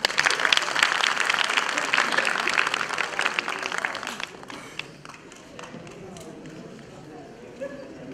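Audience applause at a state conservatory graduation ceremony at Sakarya University, marking the graduates' oath; dense clapping fills the first four seconds, then thins to scattered claps and a quiet murmuring hall.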